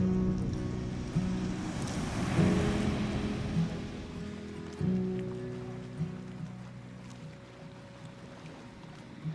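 Ocean waves at a beach on the Big Sur coast of California: low, rumbling surf rolls in and washes back in a couple of broad swells, fairly soft and continuous with no voices.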